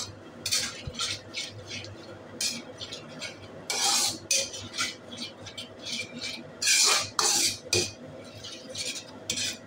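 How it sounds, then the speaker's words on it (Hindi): Yogurt stirred in a pan over a low flame with a metal spoon, repeated scraping strokes and light clinks against the pan in an uneven rhythm, close and moderately loud, with no talk. "इसको डाल देते हैं और स्लो आंच पे इसको अच्छी तरह चलाते हैं कि ये फटे नहीं"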